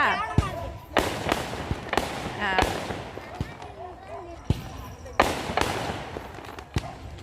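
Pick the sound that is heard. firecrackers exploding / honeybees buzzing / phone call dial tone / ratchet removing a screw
firecrackers exploding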